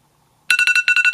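Phone timer alarm going off with a rapid burst of loud, bright electronic beeps in quick even pulses after a brief silence.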